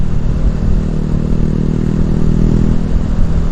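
A Honda Revo FI motorcycle fitted with an R9 racing exhaust idles and runs at low, steady throttle close by, a continuous deep, mellow burble with no voices.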